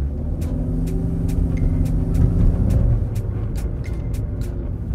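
Ford Mustang engine droning steadily with a low, rising rumble as the car accelerates, heard from inside the cabin with road noise and faint ticking throughout.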